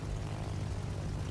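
B-25 bomber engines in the World of Warships video game give a steady, loud propeller-aircraft drone that holds throughout without a break.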